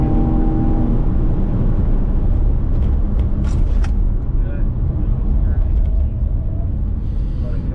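BMW M3 at full throttle then braking hard on the Indianapolis Motor Speedway during a performance driving school, a steady loud engine and road roar heard from inside the cabin with faint tyre noise.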